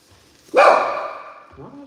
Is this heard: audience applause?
no